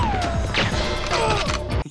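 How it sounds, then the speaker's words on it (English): Several sharp, punchy bullet-impact hits from the video game GoldenEye 007 land in quick succession, loud and dense, with a crashing, whacking character and no voice over them. "as well as the bullet hit sounds."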